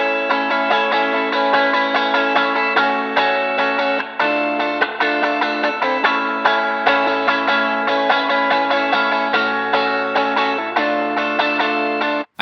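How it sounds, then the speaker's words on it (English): Electric guitar intro played through a gritty amp placed in a garage, heard as a loud, steady, distorted strummed riff with chorus and echo, continuous for the whole stretch with no talking. "I actually put the amp of this guitar in the garage because of the gritty and like garage sound that we wanted for this intro"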